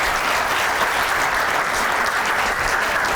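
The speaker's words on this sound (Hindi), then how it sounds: "क्लैपिंग करें इसके लिए जी" An indoor audience at a student question session with a Punjab education minister claps steadily, a dense even applause that holds throughout with no voices standing out.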